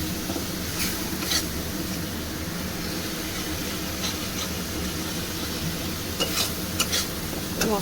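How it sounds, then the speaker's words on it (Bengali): Ground spice masala with a splash of water stirs and fries in a pan for dhokar dalna, a loud, steady sizzle close by with scraping strokes of a spoon against the metal. "মশলাটা কষিয়ে নেব।"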